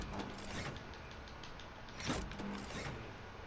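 A faint creak in the video game Alien: Isolation on the Sevastopol station, a few quiet drawn-out mechanical groans over low ambient hum.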